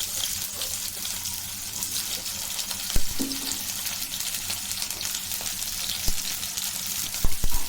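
Onions and green chillies fry in two tablespoons of oil in a pan, giving off a steady close sizzle broken by a few sharp clicks and clatters.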